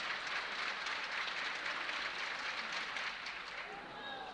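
Crowd applause fills an indoor arena at a high jump final at the British Indoor Championships, a steady broadband wash of clapping that holds for several seconds, with a commentator talking over it.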